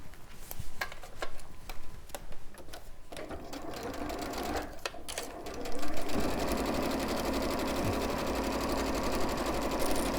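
A sewing machine stitches the top and bottom of a fabric bag, starting with a few short ticking bursts and then settling into a steady, close, continuous whirring run.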